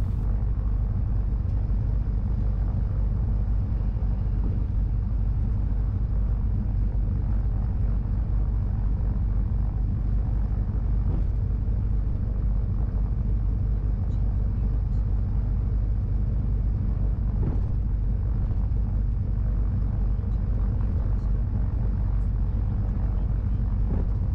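Twin-engine Cessna sits on the runway before takeoff, its engines droning in a steady, loud rumble that holds unbroken with no talk.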